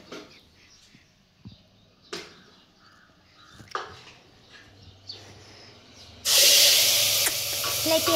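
Hot oil in a home kitchen pan erupts into a loud, steady hissing sizzle that carries on to the end, following several seconds of quiet, sparse clatter and knocks.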